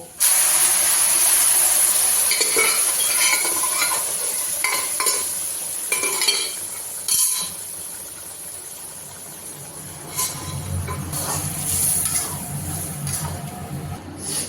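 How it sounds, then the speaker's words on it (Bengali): Chana dal frying in a pan gives a bright, steady sizzle and hiss, with intermittent scraping of a spoon stirring through it and a fuller bubbling sound building toward the end. "তারপর একটু নাড়াচাড়া দিয়ে আমি বুটের ডালটা দিয়ে দেব"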